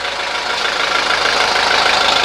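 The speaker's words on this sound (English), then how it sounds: "You see the engine has just a bare little shake to it." A 1983 Mercedes 240D diesel idles close by, its motor mounts freshly replaced, giving a steady, loud, rough clatter that stays even throughout with no voices.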